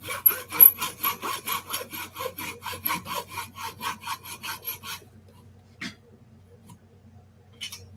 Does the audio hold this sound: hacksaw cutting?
yes